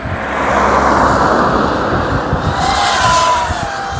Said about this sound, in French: Ah, il y a une voiture là, je le vois.